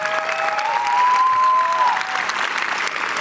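Graduation audience for Air Force Junior ROTC seniors applauding in a large hall, a loud, continuous roar of clapping with whistles and cheering rising through the middle.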